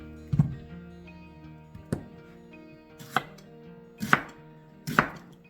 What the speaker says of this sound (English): Going to chop up a red onion